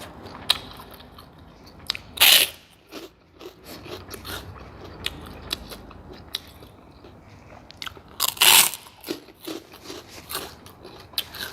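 Crispy home-fried pork rind bitten and crunched close up, with two loud sharp crunches standing out among a run of smaller crackly chews, no talking.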